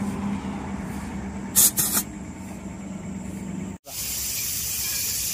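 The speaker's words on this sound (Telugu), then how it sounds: "వాల్ పిన్ పీకిస్తున్నాడండి గాలి పెడతానికి." Air fills a truck tyre after its valve pin has been pulled. Quiet workshop rumble and a couple of short bursts give way near the end to a sharp, steady, close-up hiss of air.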